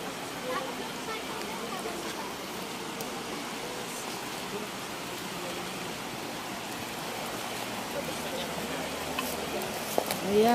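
River water in Carranglan rushes with a constant broadband hiss, close and even throughout, while voices speak now and then over it.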